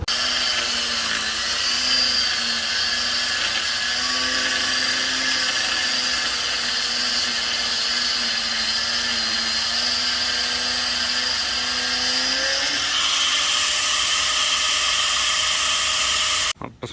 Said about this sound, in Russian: просверлим отверстие и закрепим все шпилькой